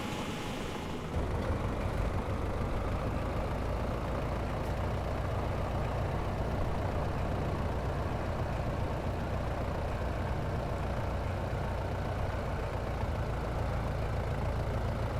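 A steady, loud engine drone from an Airbus A320 (FlyByWire A32NX) in Microsoft Flight Simulator runs continuously, with a low rumble and no clear sputtering breaks.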